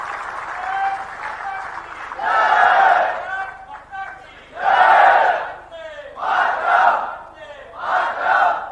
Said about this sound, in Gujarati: આવી રીતે બૂમો પડે એટલે ખબર પડી જાય કે અમારા ગોઠવાયા છે બધા